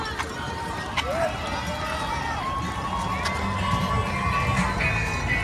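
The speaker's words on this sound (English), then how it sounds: "Hearing those strangers scream my name right there in Central Park when I felt like dying really" Crowd of strangers cheering and shouting along a marathon route in Central Park, a continuous roar of voices with footsteps and scattered yells, heard from among the runners.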